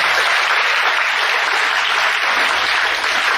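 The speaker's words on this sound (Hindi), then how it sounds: "क्या आप ताली बजाकर परमेश्वर को धन्यवाद दे सकते हैं?" A church congregation claps to thank God, a dense, steady burst of applause from many hands that fills the room without a break.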